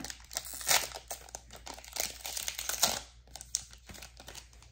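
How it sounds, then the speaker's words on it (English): Scissors snip open a crinkly foil Pokémon Brilliant Stars booster pack up close, giving a continuous, dense crackle of cutting and rustling wrapper with no voices. "I'm gonna use the scissors for this pack"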